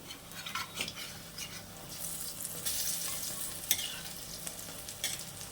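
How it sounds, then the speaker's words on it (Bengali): Fritters (bora) frying in a pan with a soft crackling sizzle, broken by scraping and light clinks of a spatula as they are turned; moderate and steady throughout. "বড়াগুলো উল্টে নিই"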